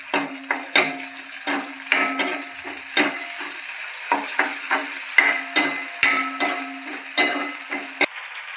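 A spatula scrapes and clanks rhythmically against a pan while schezwan chutney and tomato ketchup are stirred into a spice mix, sharp repeated metallic strokes over a faint sizzle, close by.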